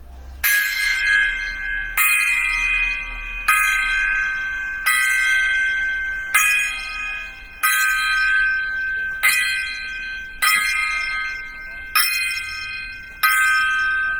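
Ten bright metallic gong strikes ring out as a salute, evenly spaced about every one and a half seconds, each loud and ringing briefly before the next, with no talking over them.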